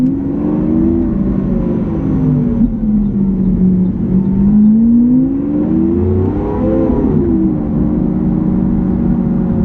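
A Lamborghini engine revs loudly and continuously, its pitch rising and falling in smooth waves as the car accelerates and eases off, with no talking.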